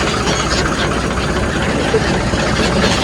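A boat engine drones steadily and loudly throughout on the Ganges at Varanasi, low and rumbling with a constant vibrating hum and no pauses.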